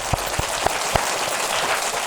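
Applause for a mother's and an aunt's birthday: a few sharp, loud claps at first, then a steadier small-group patter of clapping that carries on alone to the end.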